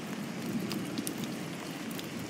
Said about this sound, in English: it's raining like really hard outside